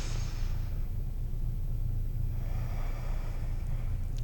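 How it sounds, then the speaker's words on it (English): A deep breath during a chair yoga session, a soft airy inhale and exhale close to the listener over a low steady rumble, with no talking. "take one big breath here"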